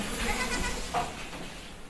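A young goat kid being trained to drink milk from a bowl gives a couple of short, nearby bleats in quick succession, with no talking over them.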